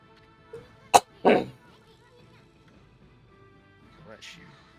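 A single short sneeze bursts out near the mic, followed quickly by a second louder burst, over quiet game music in Okami.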